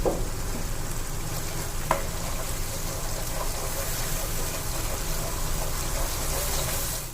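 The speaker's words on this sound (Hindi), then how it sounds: "अब अच्छे से इसकी भुनाई करनी है मसाले की" Masala with tomatoes is stir-fried for beef paya, trotters cooked in oil, giving a constant loud sizzle with light stirring scrapes throughout and one sharp clink partway through.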